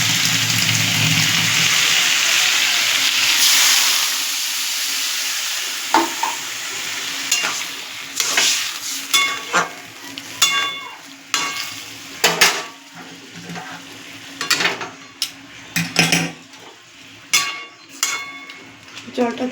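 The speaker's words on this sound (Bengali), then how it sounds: "দিয়ে এটাকে আমি অল্প পরিমাণে জল দিয়ে দেবো।" Hilsa fish head curry sizzles loudly in a pan, then the frying settles into a quieter hiss as water goes in and a utensil stirs with repeated scraping clinks against the pan.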